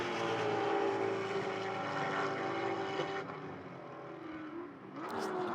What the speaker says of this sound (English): Enjoy the sound of those big Thunder and V8s out there, and then the BMWs and the other machines out there as well.